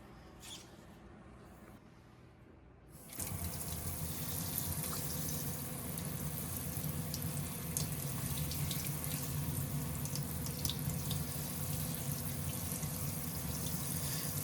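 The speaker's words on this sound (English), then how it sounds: "We'll just rinse that dirt off." Tap water runs steadily into a sink as freshly dug wild onions are rinsed of dirt, a continuous close splashing flow that starts abruptly after a few quiet seconds and carries on without talk.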